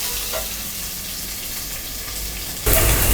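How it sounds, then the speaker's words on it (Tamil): Onions sautéing in a pan for home-made mutton dum biryani, a steady close sizzle with faint stirring, which swells into a louder burst of frying near the end. No one speaks. "இதை வந்து சிம்மில் வச்சுட்டு நல்லா வதக்கிக்கோங்க. வெங்காயம் நல்லா வதங்கட்டும்."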